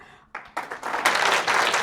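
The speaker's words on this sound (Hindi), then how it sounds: "आप लोगों की तालियों की गूंज में मैडम शमशाद" Audience applause at an award ceremony where a shield is presented, starting after a brief pause and swelling in steps into dense, sustained clapping from many hands.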